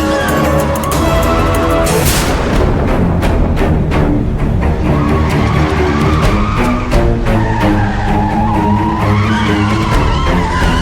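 A vehicle brakes hard to a stop with loud, sustained tire skidding and squealing that runs for nearly the whole stretch, with dramatic music layered over it.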